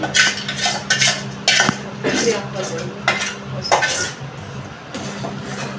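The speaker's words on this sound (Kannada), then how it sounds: "ಇವಾಗ ಗೋಡಂಬಿ ಮತ್ತು ಬಾದಾಮಿನ ಹಾಕೋತಾ ಇದ್ದೀನಿ" Cashews and almonds clatter into a pan of jaggery syrup, with repeated close metallic clinks and scrapes of a spoon against the pan in uneven bursts.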